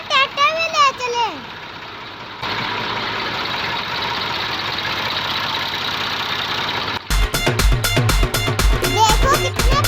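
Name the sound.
homemade Mahindra mini tractor engine running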